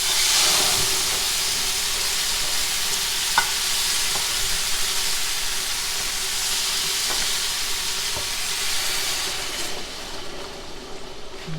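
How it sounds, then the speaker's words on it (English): Continuous loud sizzling and hissing of carne asada meat frying in a hot pan, with occasional soft clinks, steady throughout with no talking. "I thought I'd show you my favorite part. It's the sizzle."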